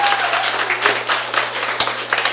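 Audience in a lecture hall clapping together, steady dense applause with sharper individual claps standing out, over a low electrical hum, with no talk.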